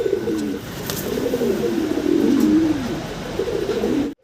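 Pigeons, including a large male, coo steadily and close by, a low, throaty warbling that rolls on without pause, with a faint high chirp now and then.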